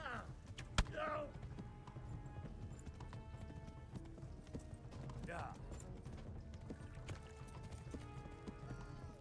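Horse hooves clip-clopping at a steady pace in the medieval game Kingdom Come: Deliverance, with game ambience and clanking tack underneath, moderately quiet throughout.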